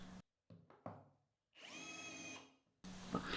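A cordless screwdriver drives a chamfering tool into a bench-dog hole, with a few knocks and clicks, then a steady whirring run of about a second, then handling noise after it stops.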